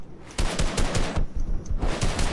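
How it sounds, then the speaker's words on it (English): Rapid automatic gunfire rattles in a Fortnite match, loud close bursts of shots in quick rhythm, briefly pausing and then resuming, with no talk over it. "I'm getting shot from two angles"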